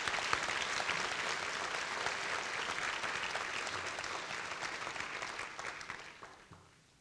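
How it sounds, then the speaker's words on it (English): A large audience at a Positive Coaching Alliance event gives a big round of applause for seven scholarship finalists, a sustained, even wash of clapping that holds for about six seconds and then fades out. "How about a big round of applause for those 7 finalists?"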